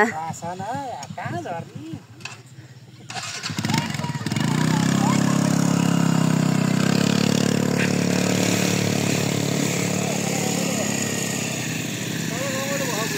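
Motorcycle engine idling near a hillside fair before parking: voices are heard briefly at first, then a close, steady low engine rumble holds for about ten seconds.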